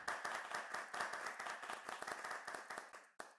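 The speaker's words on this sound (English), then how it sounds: "Please, all debaters give a big round of applause for YB Najwan." Debaters clap for a speaker at a youth unemployment policy debate session in Malaysia, a dense round of hand claps with distinct individual slaps, steady for about three seconds before stopping abruptly.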